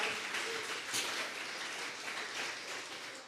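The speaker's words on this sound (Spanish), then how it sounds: "Dele fuerte esas palmas al Señor de la gloria." A church congregation claps their hands together in a steady, dense patter of applause, moderately loud and continuous from start to finish with no speech over it.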